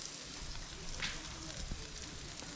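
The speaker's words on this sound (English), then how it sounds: "He's sizzling." Raccoon ribs with fresh onions sizzle on an outdoor grill, giving a continuous, soft, crackling hiss at low volume with faint scattered pops.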